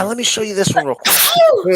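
A person sneezes once, sharply and close by, in the middle of casual talk between people hanging out.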